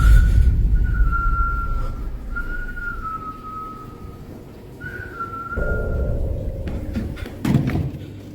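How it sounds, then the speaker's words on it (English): A person whistles a thin, wavering tune in three separate phrases in a quiet, dark living room at night, followed by a few soft thumps and shuffling noises near the end. "whistling can be heard in the living room"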